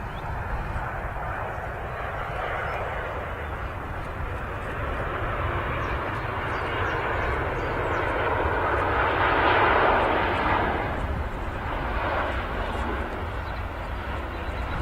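A Saudia Boeing 787 Dreamliner touches down on arrival at Manchester Airport, its engines a loud, steady roar that swells briefly mid-landing and then holds, with no voices.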